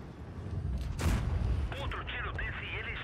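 Naval artillery fires in the World of Warships video game: one sharp, booming blast near the middle, fairly faint, followed by softer whistling tones.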